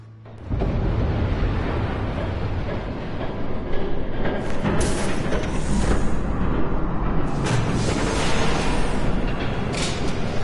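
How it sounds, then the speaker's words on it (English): A train rumbles past in the Batman Telltale game on PS4, a loud, continuous, close roar with rattling carriage noise that swells after a quiet start and holds steady throughout. "There's a train coming."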